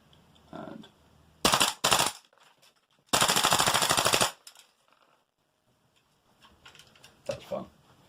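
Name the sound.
airsoft Spitfire gun shots in semi-auto with tracer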